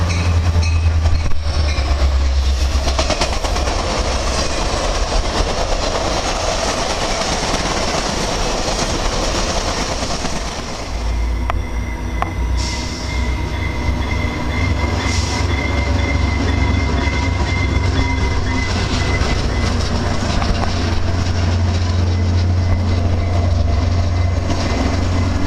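A CSX freight train rolls past, loud and continuous for about 25 seconds, with a heavy rumble, rhythmic wheel clatter over the rails and faint wheel squeal.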